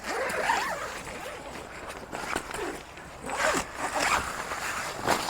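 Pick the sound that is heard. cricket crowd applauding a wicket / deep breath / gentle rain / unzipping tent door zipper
unzipping tent door zipper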